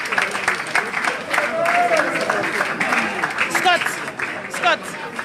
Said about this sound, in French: Nos acclamations pour le président du MLC.